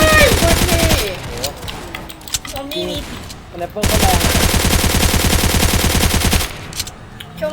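Rapid automatic gunfire in the Roblox zombie game Zombie Uprising comes in two long, loud bursts separated by a quieter gap, with talk over parts of it.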